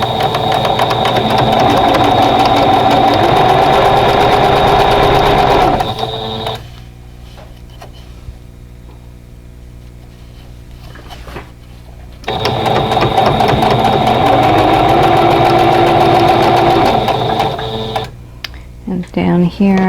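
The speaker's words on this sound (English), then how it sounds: "let's go ahead and sew these rows together and make our units." A sewing machine stitches quilt block rows together, a loud continuous mechanical whirring and ticking run that stops for several seconds and then resumes, with someone talking over it.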